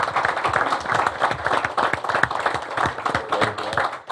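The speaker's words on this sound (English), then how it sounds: "One more round of applause for all of our custodians." An audience at a county board of education business meeting claps for school custodians; a brisk round of individual hand claps, fairly close and lively, holding steady throughout.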